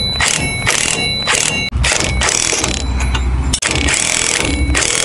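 Impact wrench snugging down the bolts on a ProPride 3P trailer hitch during installation: two loud, sustained rattling bursts of hammering, each cut by a brief stop, close up and with no talking.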